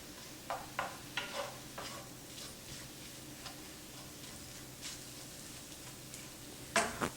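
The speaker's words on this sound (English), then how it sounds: "I'll mix my onion around." Onions frying in a pan for a calzone filling are stirred, giving a faint, soft sizzle with scattered light scraping and tapping of the utensil, close and quiet without speech.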